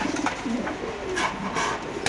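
Caged racer pigeons at a market stall give soft, low cooing calls, a few short murmured coos close by over a busy background hum.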